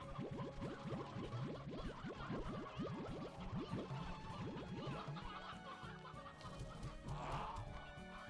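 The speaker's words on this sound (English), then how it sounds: "we have a lot of chickens" Chickens in the video game Slime Rancher 2 cluck in quick, dense bursts for the first few seconds, then grow sparser and softer over a background hum.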